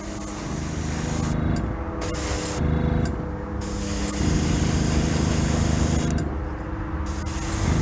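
Aerosol spray paint hissing in short bursts as a tack coat goes onto a 1974 Hot Wheels Flying Colors Heavy Chevy Camaro die-cast car, close and steady with brief pauses between passes.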